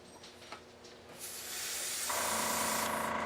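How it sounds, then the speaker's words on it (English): A paint sprayer hisses in steady bursts, starting softly and rising to a loud, continuous spray as paint is laid onto a model panel, with no speech over it. "Turn my sprayer down a little bit."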